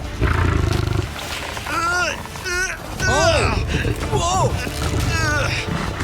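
Deep, rumbling lion roars and growls repeat in bursts during a strength contest between a lion and a strongman, with excited voices talking and shouting over them close by.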